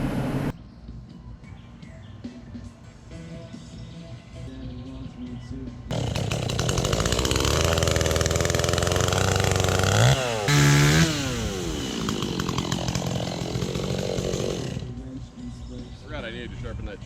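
Chainsaw with a chain in need of sharpening, idling low before revving to a loud, sustained, close roar mid-clip, then dropping back to idle, with speech alongside.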